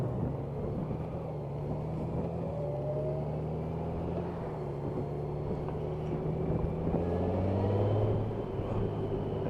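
A Honda Goldwing 1800cc DCT motorcycle engine runs steadily, a smooth low rumbling drone with gently shifting pitch and some wind noise, heard continuously throughout without speech.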